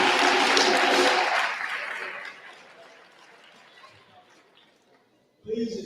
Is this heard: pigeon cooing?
no